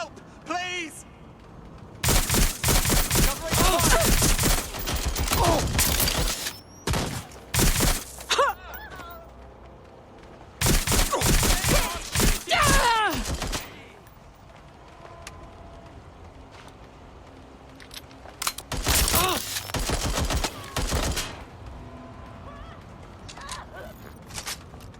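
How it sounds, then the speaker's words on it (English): Bursts of gunfire in the video game Watch Dogs Legion, loud clustered volleys repeating across the stretch with short gaps, mixed with shouting voices and game sounds. "Shots fired! Shots fired!"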